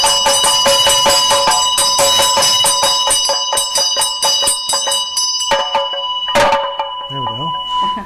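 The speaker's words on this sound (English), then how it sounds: "is followed by the drum and bell" A ritual hand bell and drum sound together in a Buddhist bell-drum practice. Rapid, evenly paced ringing strikes continue for several seconds, then one louder final crash follows, and a voice is heard briefly near the end.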